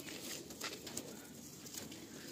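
Kaldam high-flying pigeon of large size at a sale, giving soft low cooing amid faint background noise, with no talk.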